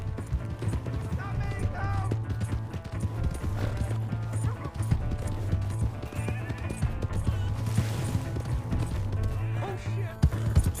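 A horse gallops in the video game Red Dead Redemption 2, its hoofbeats running steadily through the clip beneath a dense mix of game music and effects, with voices shouting over it.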